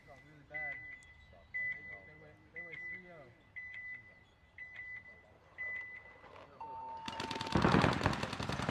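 During a paintball match, a series of regular electronic beeps leads into a loud, dense burst of rapid paintball gunfire near the end, with voices in the background.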